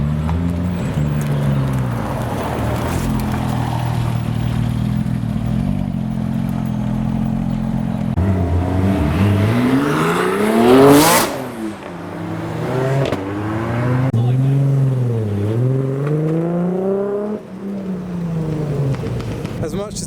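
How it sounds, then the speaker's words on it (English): A Porsche 997 John Player Special Turbo revs hard at a large Japanese and German car meet, the engine rising and falling in sharp sweeps before it pulls away, amid crowd noise and people talking nearby. "we just heard some revolutions from the 997 John Player Special Turbo"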